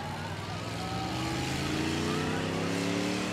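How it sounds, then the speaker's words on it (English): A truck engine at a spectator drag race at Rockford Speedway roars steadily at distance, rising in pitch as it revs, with crowd and track ambience behind it. "That truck sounds good."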